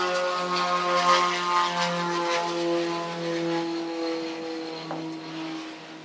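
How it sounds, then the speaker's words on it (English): An airplane passing overhead outdoors, a steady droning engine hum with sustained tones that slowly fades, heard alone without talk. "can you guys hear that plane?"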